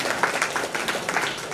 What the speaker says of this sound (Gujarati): એને પણ જોરદાર તાળીઓથી વધારશું.